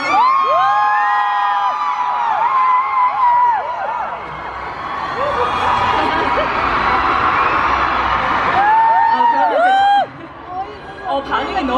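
Large crowd of K-pop fans at a KCON LA meet-and-greet stage screaming and cheering continuously, with high shrieks and whoops rising and falling throughout, loud and close, briefly dipping near the end before surging again.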